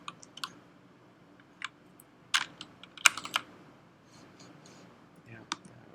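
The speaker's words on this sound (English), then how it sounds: "I just want to type some other things first." Typing on a computer keyboard while coding in Rust, irregular bursts of clicky keystrokes with brief pauses between them, close and fairly soft over faint background noise.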